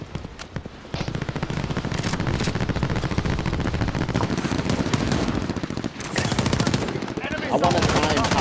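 Rapid automatic gunfire in a video game, a loud continuous burst of shots lasting several seconds with a brief gap before firing resumes.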